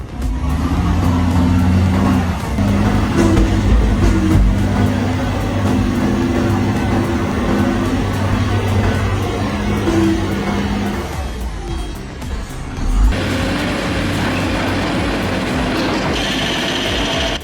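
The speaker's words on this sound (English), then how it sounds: "This excavator pushes the heavy truck with ease, showing incredible power and precision" A heavy excavator's diesel engine labors steadily while pushing a heavy truck at a demolition site in downtown Zurich, a continuous low drone with shifting load and mechanical clatter near the end.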